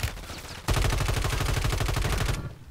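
Rapid automatic gunfire in a video game, a sustained burst of evenly spaced shots, loud and close, lasting about two seconds after a brief quieter lead-in.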